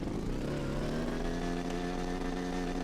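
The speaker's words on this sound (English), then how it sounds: "we can go ahead and check out the actual motorbike" A motorbike engine in the game Rust drones steadily at close range, its buzzing pitch rising slightly as it revs, with no voices over it.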